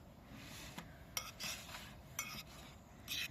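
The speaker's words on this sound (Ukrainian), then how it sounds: "Перемішуємо, щоб у нас все було" Salad being stirred outdoors in a bowl, with scattered clinks and scrapes of utensils against dishware, fairly quiet and irregular, no talking.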